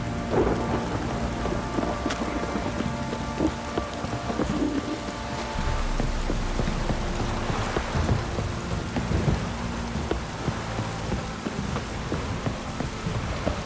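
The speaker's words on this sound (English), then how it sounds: "This downpour's a bastard, it is." Heavy rain and rolling thunder in the video game The Witcher 3, a steady dense downpour hissing throughout with low rumbling thunder swells, no voices.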